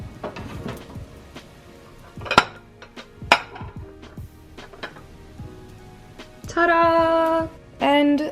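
A spoon scrapes and clinks against a pot while serving Dominican locrio rice, giving scattered metallic taps and knocks, followed by two longer ringing, grinding scrapes near the end.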